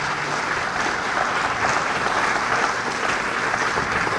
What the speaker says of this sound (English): let's do that again. Round of applause for Blake